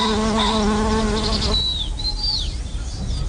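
Insects buzz faintly around flowering plants in a quiet natural setting, joined by high, bird-like chirps in the second half.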